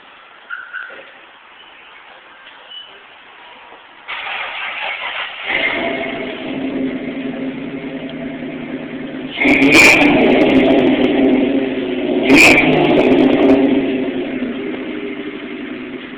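A car engine starts up and idles, then revs and pulls away, growing louder in stages with two sharp bursts of acceleration before settling into a steady drone.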